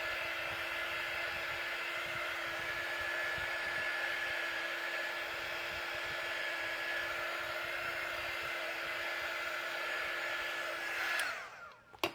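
A hair dryer blows a steady, even whoosh while drying a transfer on a handmade notebook, running continuously at close range before cutting off with a click near the end.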